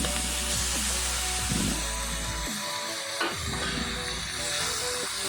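Masala for Chintamani chicken sautéing in a pan gives a steady, close sizzling hiss over a low rumble, with a few soft stirring knocks and no talking.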